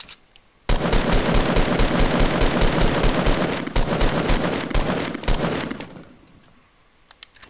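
Rapid automatic gunfire in Fortnite Battle Royale, a loud, dense burst of shots lasting several seconds with brief gaps, then trailing off into quiet.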